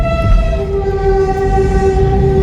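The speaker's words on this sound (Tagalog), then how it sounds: "May tren." A passing train sounds a loud, sustained, tonal horn close by, steady for a couple of seconds over a low rumble.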